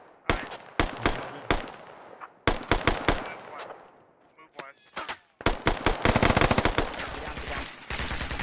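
Rapid bursts of video game gunfire from US forces in a battle, loud close machine-gun rattles and single shots in quick clusters, building into a dense sustained volley near the end.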